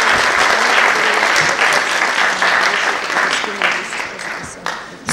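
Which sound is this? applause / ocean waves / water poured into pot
applause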